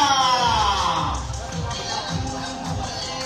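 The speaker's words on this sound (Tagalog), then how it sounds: "At sigawan tayo sa ating mahal na Vice Mayor, G. Atienza!" A crowd at a political rally in Tondo shouts and cheers for the vice mayor, a broad continuous roar with an announcer's amplified voice over it.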